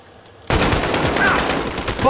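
Gunfire in the Call of Duty: Modern Warfare video game starts abruptly after a brief quiet moment and carries on as a dense, loud burst of shots, with game sounds layered around it.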